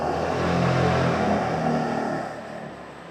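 Kymco Xciting 400i motor scooter engine revving up close, a steady loud drone that swells and holds before easing off toward the end, with no talking.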